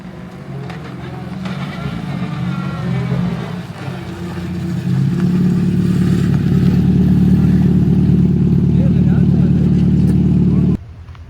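A three-time New Zealand championship-winning rally car with a sequential gearbox idles, then its engine revs up to a loud, sustained drone near the microphone before cutting off abruptly, with some clatter and vague voices underneath.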